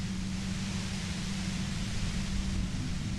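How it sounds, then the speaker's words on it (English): Steady, dense white-noise hiss with a low rumbling undertone fills the scene in the Disco Elysium video game, unbroken and constant throughout. "You hear through the white noise. It's especially bad suddenly."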